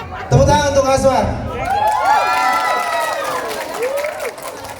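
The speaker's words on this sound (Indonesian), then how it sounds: "Tepuk tangan untuk Aswar" A crowd at a political rally cheers and whoops loudly with scattered clapping, lively shouts rising and falling in pitch over several seconds.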